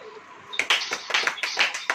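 A church congregation claps along in quick rhythmic bursts, sharp overlapping hand claps starting abruptly after a brief quiet lead-in and continuing steadily.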